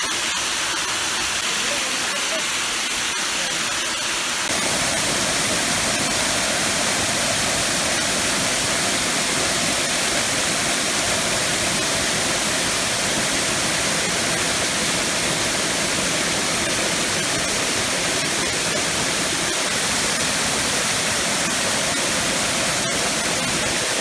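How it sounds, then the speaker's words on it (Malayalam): A triple waterfall at Nariampara near Kattappana, Idukki, pours over rock in a steady, loud, hissing roar that fills the whole stretch without pause. "ഈ പാറയുടെ മുകളിൽ നിന്നാണ് താഴേക്ക് വെള്ളം വീഴുന്നത്."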